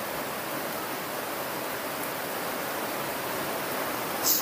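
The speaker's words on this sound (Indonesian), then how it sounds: "lebat lagi hujannya" Heavy rain falls in a dense, continuous hiss that stays even and fairly loud throughout, with no voices.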